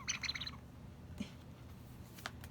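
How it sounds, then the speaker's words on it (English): A small toy bird chirping, a quick flurry of faint high tweets at the start followed by a couple of isolated chirps in a quiet room. "He's a small bird and he chirps."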